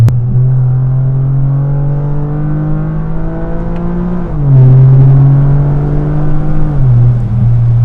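Three-cylinder 1.6 L turbo engine of a 2024 Toyota GR Yaris, four-wheel drive, pulling hard under acceleration from inside the cabin, a loud steady drone rising in pitch with two brief dips as gears shift.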